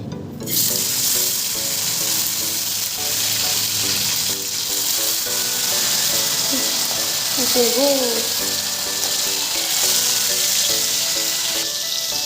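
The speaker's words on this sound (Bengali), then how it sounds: "তো মাছ তো এখন ভাজি বসিয়ে দিলাম" Fish fries in hot oil in a home kitchen, a loud, constant sizzle and crackle running throughout, with faint clinks of utensils and a brief higher squeal partway through.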